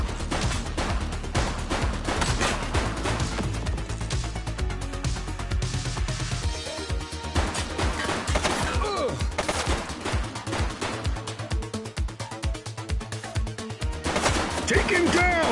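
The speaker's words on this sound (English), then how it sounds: "He's shooting!" Dense gunfire in the police game The Precinct, rapid automatic bursts and crackling shots layered over loud action music, near and sustained throughout.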